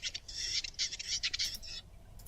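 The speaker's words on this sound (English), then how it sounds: "That is just me clicking on like a keyboard." Rapid bright clicking of a computer keyboard struck in quick bursts, close and fairly quiet, with brief pauses between flurries and no voices.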